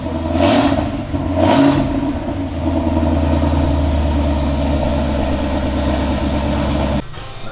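A Chevrolet Camaro with an X-pipe exhaust and its exhaust valves closed revs twice up close, each rev a loud rising surge, then settles into a deep, rumbling idle that runs on steadily.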